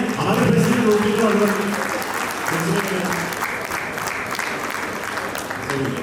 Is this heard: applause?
yes